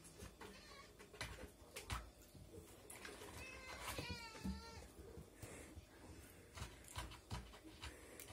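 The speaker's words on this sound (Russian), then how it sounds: "какие у меня кошки голодные?" Hungry cats meow close by in a quiet room, one drawn-out wavering call standing out among clicks and handling noises, with faint voices now and then.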